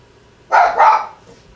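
Toby, a small pet dog, lets out a quick double bark nearby in a home craft room, two sharp yaps in close succession, then quiet.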